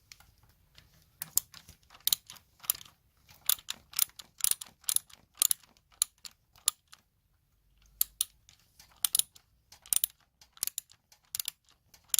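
A ratchet clicks in quick irregular bursts while an oil filter is tightened on a BMW S1000RR motorcycle, with sharp close-up clicks separated by brief pauses.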